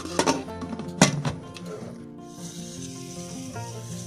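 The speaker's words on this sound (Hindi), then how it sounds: "मैं इसको अब प्रेशर कुकर बंद करती हूँ।" Metal clinks and clatters as a pressure cooker lid is set on and locked over mutton yakhni, followed by a soft hiss and faint background tones.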